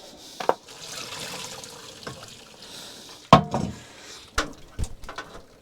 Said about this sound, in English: I just drained it with the colander.